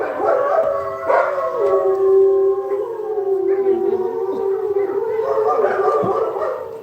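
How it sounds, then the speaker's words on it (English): Several dogs howl together in long, wavering, overlapping tones that rise and fall continuously at the end of the day outdoors, loud and close, with a faint siren-like quality. "let our dogs do their thing"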